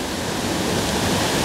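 Small waterfall where bass are being fished, a loud, close, steady rush of falling water with no breaks, alone without talk.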